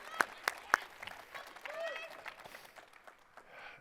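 An audience at a State of the City address claps briefly and faintly, with a few sharp claps standing out as a voice talks over the room.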